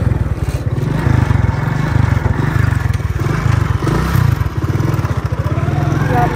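Motorcycle ridden along a rural village road, its engine chugging in a steady low rhythmic putter with rattling and wind noise, close and loud throughout while someone talks over it.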